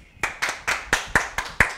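Several people clap in a television studio, seven sharp, evenly spaced claps in quick succession, fairly close and clear with no talk over them.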